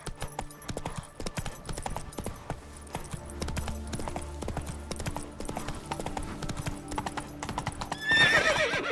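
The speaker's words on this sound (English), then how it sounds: "Run, Roach" In The Witcher 3: Wild Hunt, a horse gallops with a steady, rapid clip-clop of hooves on the ground, ending in a loud whinny near the close.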